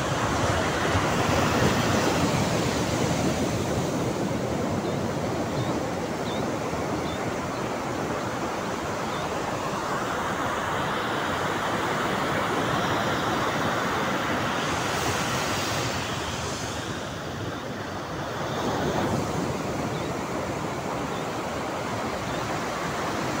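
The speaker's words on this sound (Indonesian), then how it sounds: "Tapi itulah indahnya suara ombak pantai teman-teman." Ocean waves wash onto Citepus Beach at Pelabuhan Ratu, Sukabumi, in a continuous broad rushing roar, swelling and easing slightly as surf rolls in, with no voices.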